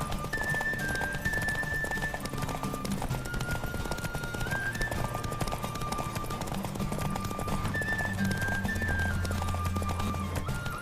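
In The Witcher 3: Wild Hunt, a horse races at full gallop, hooves drumming loudly and continuously while whistling tones rise and fall and a low musical hum runs underneath.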